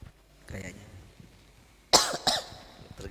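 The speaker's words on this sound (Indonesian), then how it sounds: "terganggu kita dengan batuk nih." Two sharp coughs ring out close by after a quieter cough earlier, with faint murmuring in the background.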